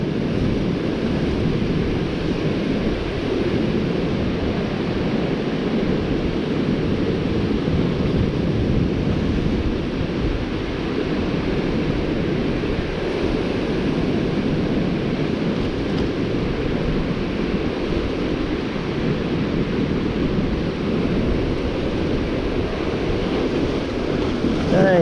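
White-water surf rolls and crashes continuously along a shore where people are fishing, a broad steady roar mixed with wind buffeting the microphone for the whole stretch, with no clear talk over it.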